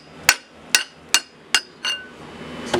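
Metal hammer strikes on a turbo manifold pipe being tapped into place on a Toyota Tacoma: five sharp, ringing taps spaced about half a second apart, then a softer clink near the end, close and loud.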